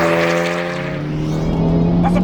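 Abarth 595 Competizione hot hatch driving, a loud, close engine drone that rises steadily in pitch as the car accelerates over about two seconds.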